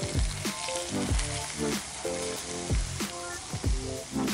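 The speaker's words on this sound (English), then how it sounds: "now that I can see it's kind of just shimmering away, I'm gonna pour that over the spring onion." Hot oil mixed with sesame oil poured over spring onion, giving a loud, close, crackling sizzle that spits and pops in uneven bursts throughout, with no voices.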